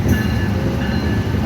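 Jaffar Express from Quetta rumbles loudly into Sibi railway junction in Pakistan, a dense, steady low roar of locomotive and rolling wheels heard up close from the cab.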